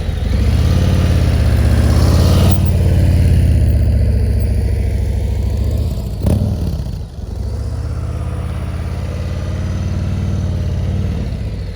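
A KTM motorcycle engine running at low speed with throttle blips, a loud close rumble that swells and dips, briefly surging around the middle before settling back to a steady drone.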